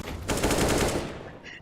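Counter-Strike rifle fire during an IEM New York 2020 esports match, heard as one short rapid burst of closely spaced shots that rings out briefly and fades.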